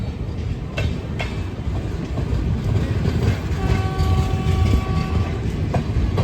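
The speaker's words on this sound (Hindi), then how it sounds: "ये है तिरुपति कोल्हापुर एक्सप्रेस" The Tirupati Kolhapur Express passenger train rolls along with a loud, steady rumble and rhythmic wheel clatter, a couple of sharp clanks early on, and a sustained horn tone sounding midway through.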